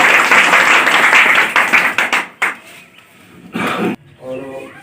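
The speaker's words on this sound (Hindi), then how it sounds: "एक बार इनके लिए जोरदार ताली।" A burst of lively clapping from a group at a Maharishi Kashyap birth anniversary gathering fills the first seconds, then tapers into scattered claps as a voice speaks over the end.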